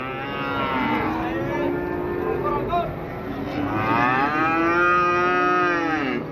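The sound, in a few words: cattle mooing at livestock market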